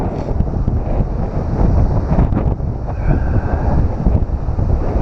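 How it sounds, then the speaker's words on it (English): Cold wind gusting across the North Atlantic shore near Pemaquid Point lighthouse, a steady loud rush of buffeting on the microphone with ocean surf mixed beneath, continuous for the whole stretch without speech. "Oh, it's cold and windy."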